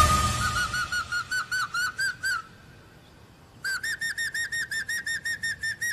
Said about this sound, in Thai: เรียนถามจอมยุทธหญิงโจว่าการผิวปากนี้มีประโยชน์ยังไง